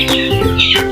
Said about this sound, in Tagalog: Daming sisiw mga idol.